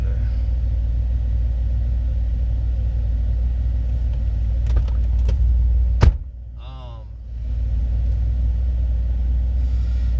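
An older work truck's engine rumbles steadily at close range, with a brief door-like knock around the middle and a short dip in the drone afterward.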